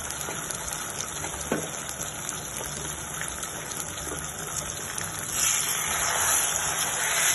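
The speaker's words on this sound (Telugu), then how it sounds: "ఇప్పుడు మనం పేస్ట్ చేసుకున్న మిరపకాయలు మొత్తం వేద్దాము. ఇది కూడా వేసాక బాగా వేయించాలి." Red chili paste for Schezwan sauce fries in a hot pan with a steady, close hiss and sizzle that swells louder toward the end, with no talking.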